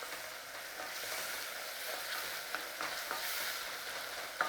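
Dijon mustard is stirred into a sizzling pan along with Worcestershire sauce, giving a soft, steady frying hiss with faint scraping taps near the end.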